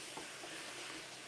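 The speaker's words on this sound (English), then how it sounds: "let me just give this a stir" Honey soy chicken sizzles in a pan as it is stirred, giving a faint, steady hiss with soft scraping.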